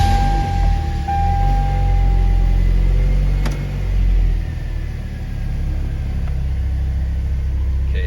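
A Toyota Tacoma truck with a 2.4 engine idles steadily with a low rumble, loud and close, its note dipping and swelling slightly, running on its own without talk.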